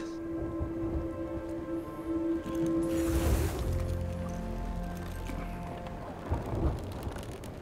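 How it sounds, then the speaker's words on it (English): Thunderstorm with rain in the pirate video game Sea of Thieves: a steady wash of rainfall with a loud thunder rumble in the middle and another swell near the end, over a low sustained musical drone. "we're going back in the storm"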